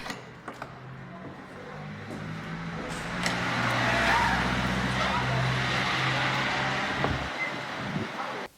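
Busy street noise with a steady rumble of passing cars and engines, a broad wash of traffic sound swelling in the middle, with faint voices mixed in.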